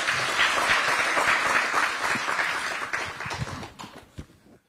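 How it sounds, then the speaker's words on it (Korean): At a Korean political rally backing presidential candidate Yoon Suk-yeol, a large crowd applauds loudly, the dense clapping thinning into scattered claps before stopping. "한 번 더 힘찬 박수 부탁드립니다."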